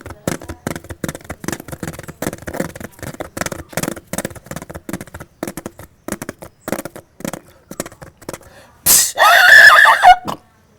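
A voice mimics a herd of horses splashing through water, with rapid rhythmic smacks and breathy bursts building to a loud, noisy whinny-like climax near the end, all close and prominent.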